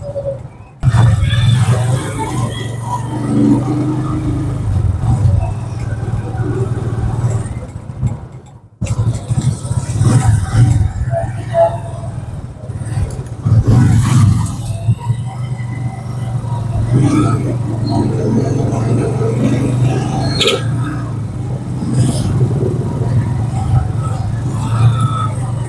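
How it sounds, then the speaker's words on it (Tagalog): Heavy street traffic crowded with many tricycles rumbles on as a continuous loud drone of small engines, with brief pauses and occasional louder passes, while people talk over the noise. "Sobrang dami po yung tricycle mga kababayan. Traffic."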